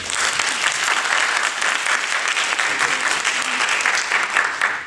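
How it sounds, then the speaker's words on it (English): A seminar audience gives steady, dense applause for a guest speaker at a lecture event, with the clapping holding for several seconds without pause. "Let's give him the applause."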